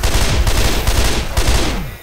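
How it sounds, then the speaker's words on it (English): Rapid gunfire in the video game Left 4 Dead 2, a loud, close burst of repeated shots in quick succession with brief gaps, tapering off at the end, no voices. "Stop shooting me."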